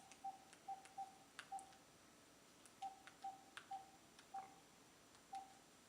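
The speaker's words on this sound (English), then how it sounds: "So I'll dial one of the numbers I have here." A telephone number being keyed in as DTMF tones, a series of short beeps in an uneven rhythm, faint over a quiet background hiss.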